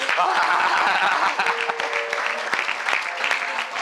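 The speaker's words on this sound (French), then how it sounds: "on acclame Jésus" A church congregation at an Easter evangelical conference applauds and cheers for Jesus, with sustained dense clapping and crowd voices filling the space throughout.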